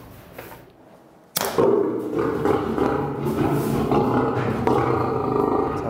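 Male lion at a wildlife park, being anesthetized for a health check, lets out a sudden loud, rough roar that carries on for several seconds after a quieter opening.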